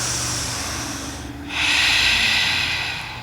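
A yoga student breathes loudly during a hamstring stretch: a long, hissing exhale trails off, then a sharp, louder inhale or snort follows, close and breathy.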